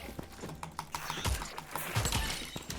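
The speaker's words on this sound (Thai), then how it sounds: "เสียงเสียงเมาส์อาจจะหนักไปหน่อยนะฮะ" Computer mouse clicking during a Lego Fortnite game, several quick close clicks in an uneven rhythm across a short stretch.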